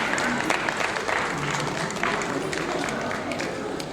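An audience at a classical dance memorial event claps in a sustained wash of applause, fairly dense and steady, with some voices mixed in underneath.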